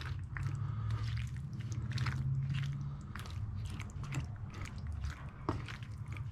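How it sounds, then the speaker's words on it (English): Penne pasta is stirred through a thick pork and tomato sauce with guanciale, producing wet, squelching, sticky squishes and soft scrapes in a steady close-up rhythm with no talking. "We're just going to stir that up and coat all those bits of penne with our sauce."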